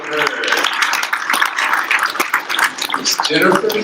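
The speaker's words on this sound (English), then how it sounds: "Round of applause for her." Applause at a workshop on Native American generational trauma, a room of people clapping densely and steadily throughout, with voices cheering and talking over it.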